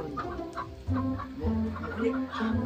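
Chickens cluck in a steady run of short, throaty calls, fairly close by, with other birds faintly mixed in and no talking.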